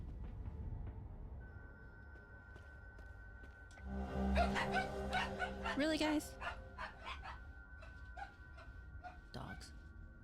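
Dogs bark and yip in the video game Hell is Us, a burst of close, loud barking and whining over low game ambience, with a voice speaking briefly.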